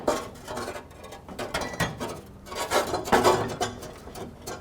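A front bumper on a 2007 Chevy Silverado Classic is lifted and shifted onto its support bracket, heard as close, muffled metallic rubbing, creaks and light clunks in uneven bursts, with no voices.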